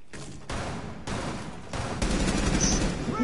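Gunfire from a multiplayer shooter video game sounds as rapid bursts of automatic shots in several volleys, moderately loud, with a short pause between bursts.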